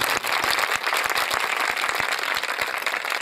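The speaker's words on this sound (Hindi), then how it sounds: "आइए जोरदार ताली इसी के जलाल" Audience in a church hall at a Christian gathering breaks into strong, steady applause, a dense roomful of hands clapping continuously and loudly throughout with no voices on top.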